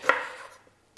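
A knife slices through fennel on a cutting board, a single crisp chop followed by a faint second tap, close and isolated with no talking.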